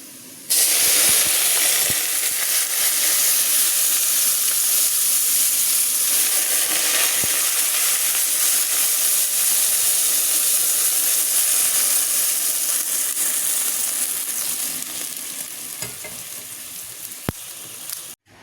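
Water poured into a hot pan while cooking sayadieh sizzles and hisses loudly right away, a dense steady frying noise that slowly eases toward the end.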